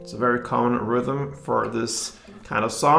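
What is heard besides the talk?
None of the usual background noises is heard.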